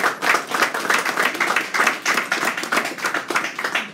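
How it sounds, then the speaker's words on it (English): At an awards reception, a small crowd claps for an award recipient, a fairly close patter of individual hand claps forming a lively, uneven rhythm that keeps going throughout without anyone speaking. "Round of applause for Tom Summers of Center Global."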